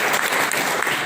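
An audience claps at a political speech at a reception for a state party secretary. The applause is dense and continuous, close and fairly loud, with no voice over it.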